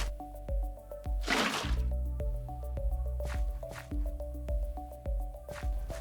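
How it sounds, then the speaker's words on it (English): Minecraft video game sound of a water bucket waterlogging a leaf block: a soft squishy splash around the middle, set among repeating plucked game-music notes. "place a leaf block in the middle of the farm and waterlog it using a water bucket"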